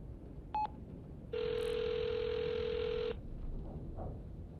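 Telephone number dialed in the video game Hitch Hiker: a short single keypad tone, then a long steady electronic tone lasting nearly two seconds, with quiet background after and no talk.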